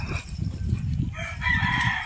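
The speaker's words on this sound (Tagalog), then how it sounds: "dinig yung mga manok" Roosters crow in bursts in a village over a steady low rumble, one calling out loudly near the end with a long drawn-out cry.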